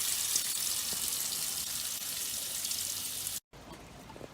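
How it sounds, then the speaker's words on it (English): Water from a Wilks TX850 petrol pressure washer hisses steadily into a bucket, a continuous bright splashing spray that cuts off briefly near the end before resuming more softly. "catch the amount of water again now into the bucket"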